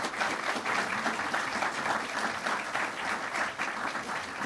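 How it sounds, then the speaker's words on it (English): An indoor audience at a veterans care service award gives steady, sustained applause, a dense even clapping throughout. "why don't we applaud Mr. Brissy and"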